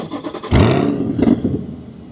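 Chevrolet Corvette C8 engine starting: a quiet pause, then a sudden loud catch and flare of revs that settles into a rumbling idle with a second small blip, heard up close and alone.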